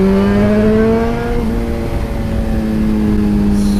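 Suzuki GSX-R1000 sport motorcycle engine on a road ride, a loud, close, continuous mechanical drone with a steady pitched tone that dips slightly midway and then holds, with a quick throttle blip and no voices.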